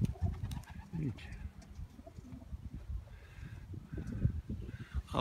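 Pigeons being moved into a new nest in a loft give soft, low, throaty coos in short repeated bursts. The coos are faint and close, and a quiet voice talks intermittently.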